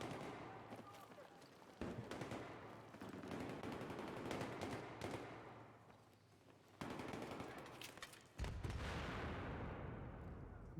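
Rapid semi-automatic shotgun fire in Battlefield 3 crackles in dense, overlapping bursts across the whole stretch, with louder blasts near the end and background gunfire throughout.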